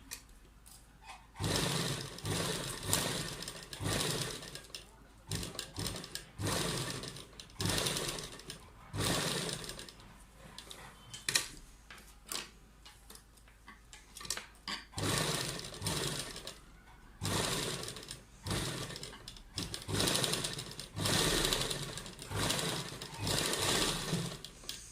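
A sewing machine stitches pearl lace onto a suit neckline in repeated bursts of fast, buzzing mechanical chatter separated by short pauses, close and fairly loud with no talking.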